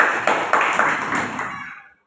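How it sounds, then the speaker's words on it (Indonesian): Schoolchildren in an elementary classroom clap in rhythm, three or four sharp unison claps followed by a ringing tail that fades to silence. "berikan tepuk tangan untuk"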